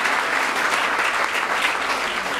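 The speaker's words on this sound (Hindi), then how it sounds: "जरा जोरदार तालियों से उनका स्वागत करेंगे" Hall audience at an ABVP Swavalambi Bharat entrepreneurship event claps loudly to welcome a guest, a dense, even wash of applause filling the room throughout.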